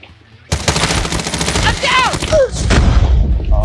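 Gunfire in the mobile shooter Call of Duty Mobile: a sudden sustained burst of rapid automatic shots, loud and close, with a short swoosh effect partway through.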